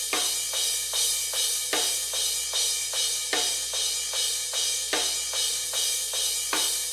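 Drum overheads with a high-shelf boost around 10 kHz, cymbals bright and sizzling over a steady beat whose hits land in a regular rhythm, dense and continuous, no talk.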